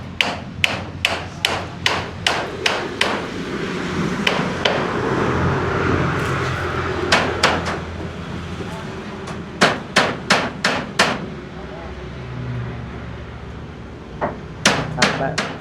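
Nails driven by hammer: sharp, loud strikes in quick runs of several blows, separated by pauses with quiet background voices and ambient noise.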